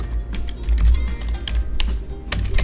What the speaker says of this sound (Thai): ลองพิมพ์ไปก่อนครับ พิมพ์ชื่อเราไปก่อนครับ